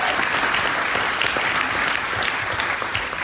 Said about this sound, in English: Let's give him a hand clap just for that.